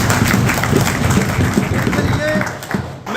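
An audience at a Jammu and Kashmir gathering breaks into loud, dense applause welcoming a guest, with sustained clapping that fades near the end, and a voice underneath.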